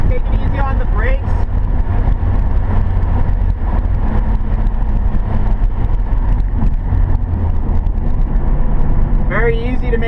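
A car cruises a cool-down lap at an HPDE track day, engine droning low and steady in fifth gear from inside the cabin while people talk over it.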